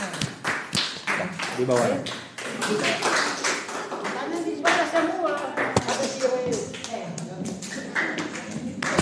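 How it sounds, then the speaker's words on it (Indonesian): Students clapping for group 2 in a classroom, a burst of many hands applauding close by, uneven and lively, with voices chattering over and between the claps. "tepuk tangan untuk kelompok 2"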